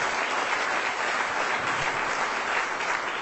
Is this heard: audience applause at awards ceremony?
yes